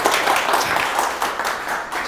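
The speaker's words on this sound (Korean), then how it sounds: "박수 한 번 더 주겠습니다." Brief burst of audience applause at a forum lecture, many hands clapping in a dense, moderately loud wash, with no speech over it.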